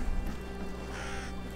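A crow caws once in the middle of a scene in the video game Assassin's Creed Valhalla, near the Isle of Ely monastery. The call sits over a steady low in-game ambient hum, and no one speaks.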